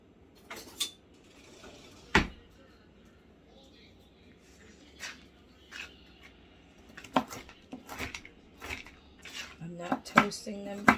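Walnut or nut halves are chopped with a knife on a board for easy brownies, giving scattered sharp taps and clatters that grow busier toward the end, close and fairly quiet.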